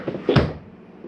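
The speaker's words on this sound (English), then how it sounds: "Shut this door." An interior door in a Jayco North Point 382FLRB travel trailer swings shut with a single soft thud and brief latch click, close by, then quiet.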